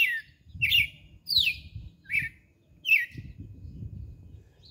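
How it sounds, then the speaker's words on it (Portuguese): A caged red-cowled cardinal sings in short, clear whistled phrases, about five bursts spaced a second apart, with faint low rumbling in the background. "Galo de Campina"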